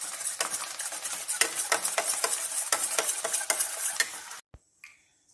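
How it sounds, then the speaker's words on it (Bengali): Gram flour (besan) being stirred into a kadhi batter, a utensil scraping and clinking steadily against the pot in quick repeated strokes, close and fairly loud, ending abruptly in near silence. "এক চামচের মতন বেসন দিচ্ছি, এটাও ভালো করে মিশিয়ে নিচ্ছি।"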